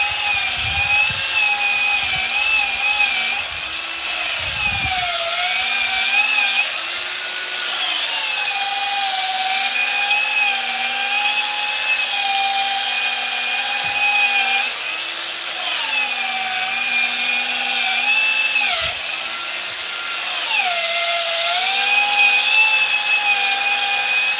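A power polisher works a surface in a garage, its motor whirring steadily with pitch rising and dipping as pressure shifts, close and loud, with a few thumps early on.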